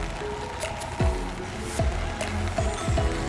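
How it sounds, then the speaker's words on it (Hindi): Rain falls on a city street in Spain with a wet, uneven patter and splashy texture throughout, joined by a few low whooshing sweeps from passing traffic, moderately loud with no talking. "बारिश हो रही है"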